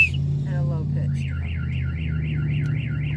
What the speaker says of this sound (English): Hold on, somebody just set my alarm off.